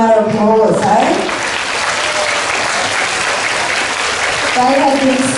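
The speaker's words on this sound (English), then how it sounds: "Let's give them a round of applause, eh?" A school assembly audience claps for its teachers during a literacy week event, with steady broadband applause filling most of the stretch and brief bursts of a voice speaking at the start and end.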